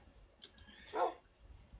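A pet wolf in a Minecraft Feed the Beast game gives one short bark, a single clear yip standing alone over a faint background.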